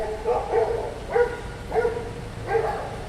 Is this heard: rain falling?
no